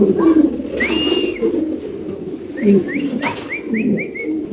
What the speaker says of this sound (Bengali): আরেক জোড়া কবুতর ইনশাল্লাহ দেখাচ্ছি আপনাদের